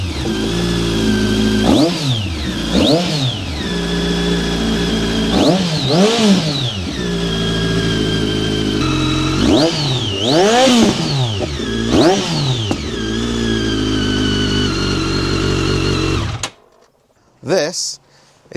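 A KTM 1290 Adventure motorcycle engine is revved hard, again and again, close and loud, in sharp rising and falling bursts. It cuts off near the end, leaving a few brief handling sounds.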